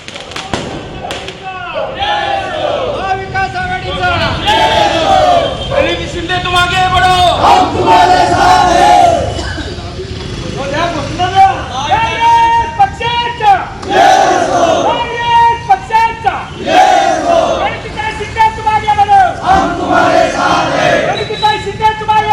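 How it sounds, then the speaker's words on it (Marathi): A crowd of supporters in the rain shouts slogans to celebrate Praniti Shinde's election victory, loud massed chanting and cheering in rising and falling waves with some thumps from bursting firecrackers mixed in. "फटाके फोडून आणि विविध घोषणा देत प्रणिती शिंदे यांच्या विजयाचा आनंदोत्सव साजरा करण्यात आला"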